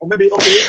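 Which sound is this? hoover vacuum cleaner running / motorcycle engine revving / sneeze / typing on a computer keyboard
sneeze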